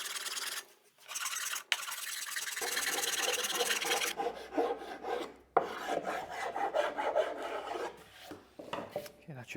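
Japanese saw rasp filing an ash Strat guitar body during an elbow carve, close, continuous rough rasping in repeated strokes with brief pauses and no talk.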